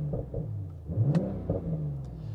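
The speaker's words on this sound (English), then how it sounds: "Some really good exhaust crackles." A quiet 2023 BMW Z4 M40i roadster engine hums with a brief rise in revs and a couple of faint exhaust pops, heard from inside the cabin.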